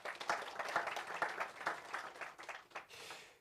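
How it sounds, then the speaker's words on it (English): Warm round of applause at a press conference for a city running series, a crowd of hands clapping steadily before thinning out and fading at the end. "please, let's give a warm round of applause for the Premier of the Free State, the Honorable Makwin Letsoa Matahe Matso."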